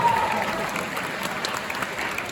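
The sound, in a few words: audience cheering and applauding in a theater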